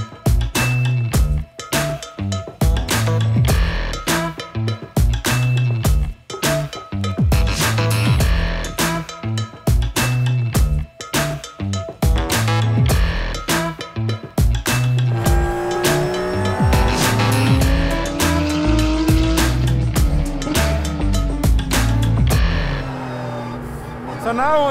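Porsche 911 GT3 racing car on a circuit, engine loud and steady throughout with repeated rising and falling revs through gear changes, possible tyre squeal, music mixed underneath.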